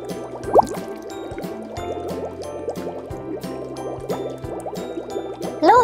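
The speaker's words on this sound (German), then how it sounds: "Jetzt, wo wir das Wasser drin haben, können wir auch die Fische reintun." Toy fish dropped into a water-filled toy aquarium tank while children play, with soft splashes and a steady trickle of sloshing, dripping water, close by, plus a couple of sharp higher squeaks near the start and end.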